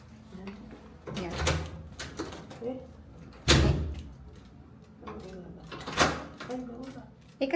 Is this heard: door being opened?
yes